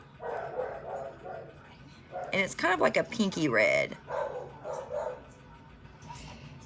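Dogs bark and yip indoors in a rapid cluster near the middle. They are moderately close and mixed with someone talking before and after.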